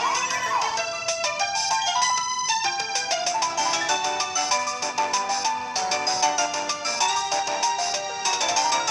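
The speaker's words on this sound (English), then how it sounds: "That was a legendary Pokemon crying." A legendary Pokemon's cry in Pokemon Platinum, a loud, dense electronic game sound with stacked bright chiming tones and rapid repeated pulses running steadily throughout.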